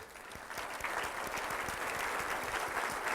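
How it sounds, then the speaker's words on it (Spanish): Steady applause from an audience, a dense wash of clapping that holds at an even level throughout. "Vamos a dar un aplauso a todas las esposas."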